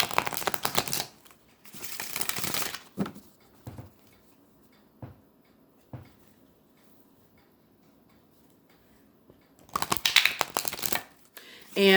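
Tarot reading cards being shuffled by hand in several short riffling bursts, each a dense rapid flutter of card edges, separated by quiet gaps with a few soft taps, close and clear.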